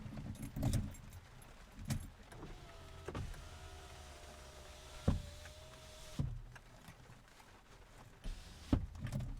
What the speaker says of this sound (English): Let's close these windows here.